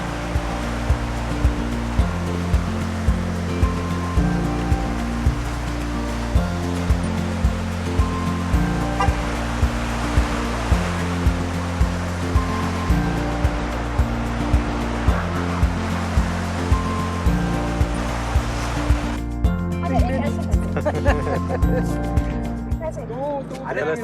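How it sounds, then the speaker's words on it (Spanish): A river along the Blue Ridge Parkway in the Appalachians in autumn rushes steadily and loudly throughout, with a faint rhythmic pulse beneath the constant water noise. "Aquí hemos llegado por donde pasa el río."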